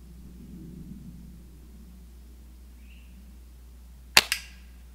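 A Daisy Grizzly air gun fires once, a sharp, loud crack followed by a brief second report, after several seconds of quiet low background rumble.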